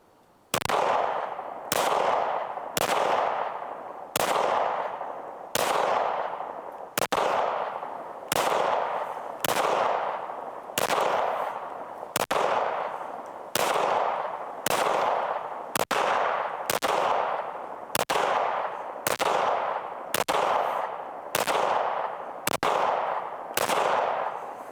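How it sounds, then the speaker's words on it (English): Pistol shots from an FN57 and a PSA Rock ring out one after another at a steady pace, about twenty loud, sharp reports, each with a short echoing decay, and no talking. "I am going to shoot the FN57 and then I'm going to shoot the Rock again."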